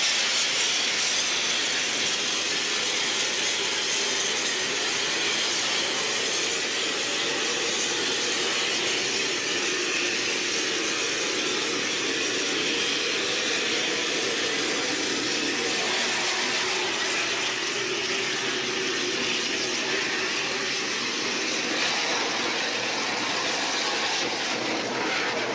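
Kanagawa University student rocket club's engine on a test stand, burning abnormally through a hole in its upper section and setting the facility on fire; a steady, loud, broadband roar runs throughout with no talking.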